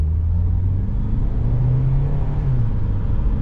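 A Honda Accord 2.4 i-VTEC engine idles on LPG at about 700 rpm. It makes a steady, close, low rumble with a slight shift in pitch partway through, and no one speaks.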